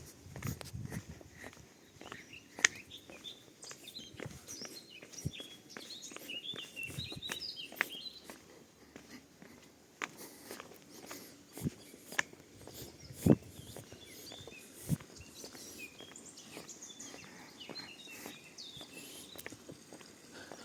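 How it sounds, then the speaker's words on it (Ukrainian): Birds chirp and sing in scattered bursts in the Carpathians at a Truskavets sanatorium in spring, with faint outdoor background noise and a few sharp clicks; no one speaks. "А як тут на території Карпат теж гарно виспівують пташки."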